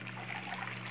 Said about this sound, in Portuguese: Mais 1 litro de água, ó,